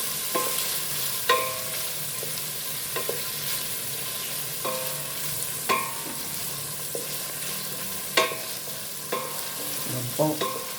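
Chicken and bottle gourd cook in a pan while a utensil stirs them, with soft clinks and scrapes recurring every second or two over a faint, steady background sizzle, no voices.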